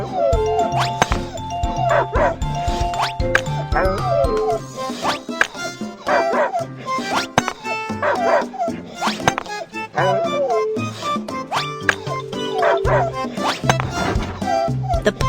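An injured puppy in a video game barks and whimpers in repeated short yips and cries, with bright game music and effects playing throughout.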